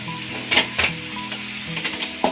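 Vegetable fried rice stir-fried in a pan, with sizzling under irregular scraping and clanking of a spatula against the metal, several louder knocks spread through the clip.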